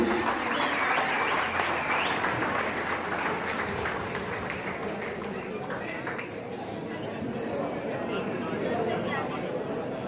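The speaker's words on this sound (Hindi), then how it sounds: "जोरदार तालियों से सभी स्वागत करें।" A crowd applauds steadily at a public event at a Swaminarayan temple, welcoming a person called to the stage, a dense continuous clapping wash with chatter and voices mixed in throughout.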